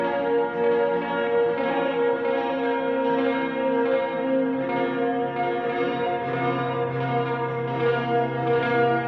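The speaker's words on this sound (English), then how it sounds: "this amp is based off a Roland Jazz Course amp, pretty classic clean amplifier" Clean electric guitar played through a Roland Jazz Chorus amp plugin, sustained shimmering chords with a wide chorus wobble and ringing reverb, loud and alone.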